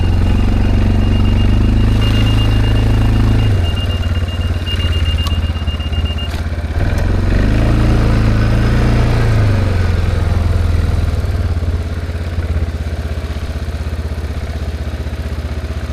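Linhai 550 ATV engine driving off-road, a loud steady mid-pitched drone with rough clatter, revving up and easing back as it moves, close and alone without voices.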